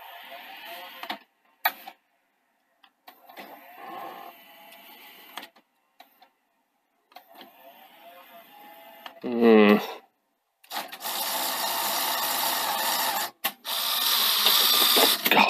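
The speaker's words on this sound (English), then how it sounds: "Okay, we've got noisy bearings." A Sony SL-HF100UB Betamax video recorder with noisy bearings whirs and clunks with a rough, grinding mechanical noise, loud bursts breaking in after quieter stretches, with a person speaking briefly.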